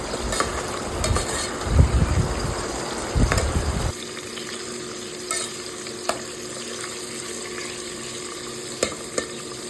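Onions cooking on a slow flame for mutton head curry, with a sizzle and stirring scrapes for about four seconds, then only a quieter background hiss and a few scattered clicks, no voices.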